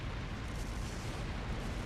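A sustained, heavy rumbling roar of explosions in the video game Trails through Daybreak, a dense continuous blast with no distinct separate bangs, loud and alone.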